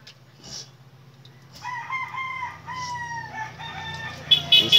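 A rooster crows loudly nearby, a long drawn-out call, with faint clucking and background noise around it.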